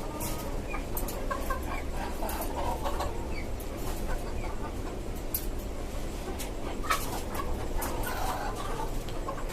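Domestic and tiger chickens cluck and call on a rooftop farm atop a five-storey house, scattered clucks over a steady background hum, with no talking.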